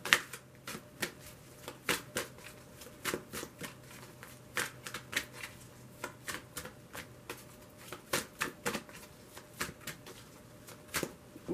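Tarot cards are shuffled over and over in quick, crisp riffling bursts, close up, with no talking.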